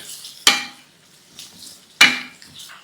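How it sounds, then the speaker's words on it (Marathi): Two sharp metallic clanks of a spatula stirring bottle gourd sautéing in oil in a pan, spaced about a second and a half apart, with quiet between. "आता हा दुधी आहे ना तेलावर छान परतून घेऊयात"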